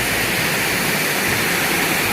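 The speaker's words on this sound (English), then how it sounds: "By the lovely, cool, running river" Water of the Goyt River at New Mills rushing along in a steady, loud, unbroken roar, close by, with no voices.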